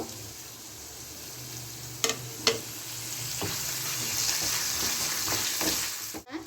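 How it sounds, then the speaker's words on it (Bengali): Two chopped medium onions fry in oil in a pan with a steady, close sizzle, broken by a few clinks of a stirring utensil and a scrape near the end. No voices. "মিডিয়াম সাইজে 2খানা পেঁয়াজ কুচিয়ে নিয়েছি, একটু লালচে লালচে করে ভেজে নেব।"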